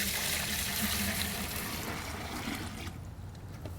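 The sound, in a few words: pouring water into a bucket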